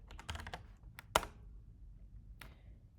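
A few quick, close keystrokes on a computer keyboard, then a single sharper key press and one last faint tap, with silence between.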